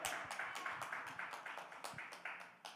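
An audience claps in rhythm for a first-time evening host at a National Action Network event, a steady run of sharp hand claps filling the room at moderate volume with no voices over it.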